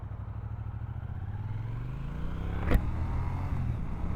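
A Triumph Speed Twin 1200RS with its 1200cc twin engine rumbles under way, the engine note rising steadily as it accelerates, with a sharp clack partway through over steady wind noise.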